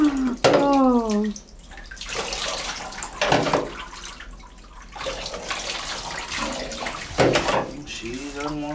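Water sloshing and splashing in a bathtub at bath time, gurgling and slapping in irregular bursts while a young child whines and cries and an adult speaks briefly.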